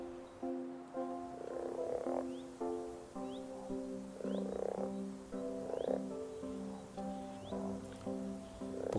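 Common frogs croak in a wild Belgian wetland, a dense chorus of repeated rasping calls pulsing steadily and fairly close, with no talking over them.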